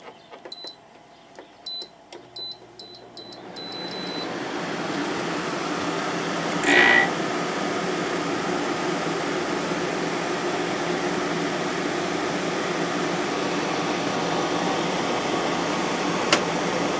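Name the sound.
GE 8100 BTU window air conditioner running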